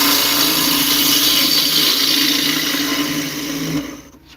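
A wood lathe takes an unintentionally deep cut into a turned piece with walls still to be refined, giving a loud, steady, harsh grinding roar that eases and drops off near the end.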